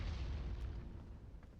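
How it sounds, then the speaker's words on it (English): Explosions in the video game Outer Wilds, low rumbling booms rolling continuously and fairly faint with no talk over them. "Explosions around the place. We'll try and be careful of them."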